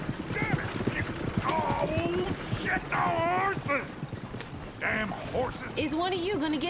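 Hooves clip-clop in a video game, a rhythmic clatter running under frequent voiced, tonal sounds that could be whinnies or speech, with mechanical rattles mixed in.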